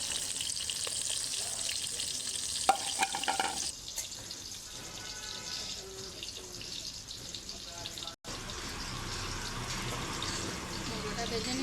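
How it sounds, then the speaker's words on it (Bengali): Rohu fish head frying in hot oil, a steady dense sizzle running throughout with a brief clatter and a short dropout near the end, nobody speaking over it. "মুড়োটা ভেজে নিচ্ছি"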